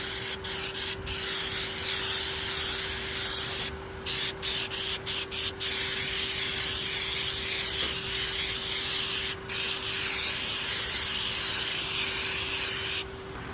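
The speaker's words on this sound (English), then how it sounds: "Just keep continuously spraying here." Steady, continuous hiss of an aerosol spray can held close to roof shingles, with a few brief pauses and a faint constant tone underneath.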